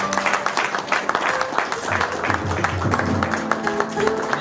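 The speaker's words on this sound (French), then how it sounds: "Alors vous applaudissez très fort" Wedding guests at a ceremony applaud, a dense patter of clapping with a few voices talking over it throughout.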